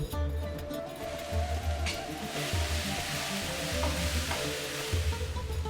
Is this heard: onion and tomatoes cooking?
yes